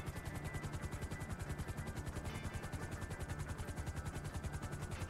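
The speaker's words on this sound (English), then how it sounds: "There's another helicopter." A helicopter's rotor in the video game GTA 5 thumps in a fast, steady pulse throughout, a continuous loud drone with a constant beating rhythm and no voices.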